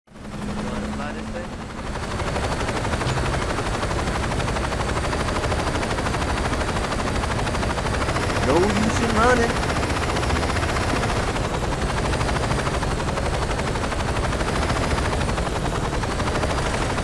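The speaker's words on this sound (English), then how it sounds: "There's a chopper on the roof" A helicopter sits on a rooftop in the Saints Row 2 game, its steady rotor roar dense and loud throughout, with a brief burst of gunfire-like clatter partway through and faint speech underneath.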